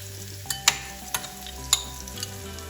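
Grated coconut fries in ghee for payasam, a soft steady sizzle with a few sharp spoon scrapes and taps against the pan, fairly close and quiet, with no voices.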